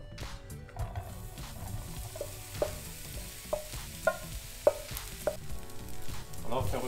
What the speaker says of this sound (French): Alors on fait revenir les oignons